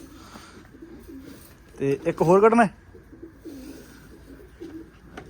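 A brief cooing call from a pigeon in a loft rises out of the background for under a second, with people talking quietly before and after.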